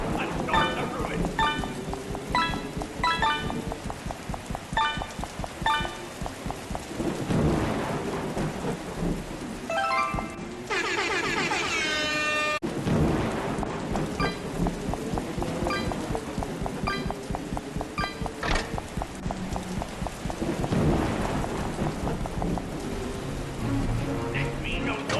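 A thunderstorm with heavy rain plays in Five Nights at Freddy's VR, a steady downpour with rumbling thunder and a loud crack near the middle, along with music-like tones throughout.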